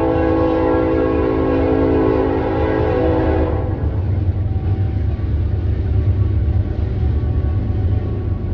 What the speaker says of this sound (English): dang train